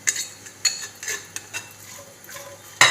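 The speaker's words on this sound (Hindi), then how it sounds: "ये हमने ऑयल डाल दिया अपना और इसमें हम अपना प्याज डाल देंगे। प्याज को थोड़ा सा गोल्डन फ्राई करेंगे।" Onion fries in hot oil while being stirred for chicken biryani masala, with a soft sizzle broken by spoon scrapes and clinks against the pan, close by.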